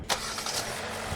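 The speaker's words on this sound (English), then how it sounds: "It's a 2-liter dual overhead cam, multi-port injection, naturally aspirated, 4-cylinder engine, 147 horsepower, 132 pound-feet of torque." A 2025 Kia Soul's 2-liter naturally aspirated four-cylinder engine turns over with a quick start burst, then settles into a steady, close, even idle hum.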